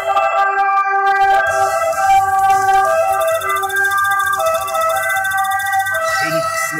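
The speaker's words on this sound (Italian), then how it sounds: "ambulanza, polizia" Ambulance and police sirens wail outside in Italy, steady and loud with overlapping tones, while game audio plays underneath.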